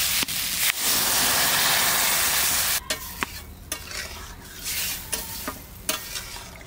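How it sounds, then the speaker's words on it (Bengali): Young garden zucchini sautéing and being stirred in a hot pan for a fish curry, with a loud steady sizzle at first that drops off, then intermittent scraping stirs and crackles. "এবার জুখিনিগুলো দিয়ে দিচ্ছি। কষাই নিচ্ছি"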